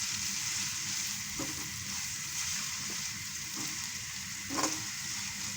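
Sliced onions hiss and sizzle steadily in hot oil that was used earlier to fry eggs and chilies, with a few soft stirring clicks now and then, close and even with no voice.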